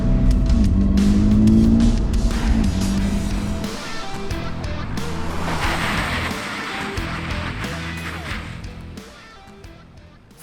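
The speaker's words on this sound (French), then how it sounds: "Freinage sur le mouillé" A car on budget tires brakes hard on a wet test track, engine and tire noise loud at first, then easing off as the car slows, with wet road hiss throughout and no talking.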